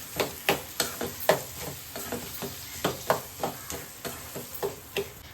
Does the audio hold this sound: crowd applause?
no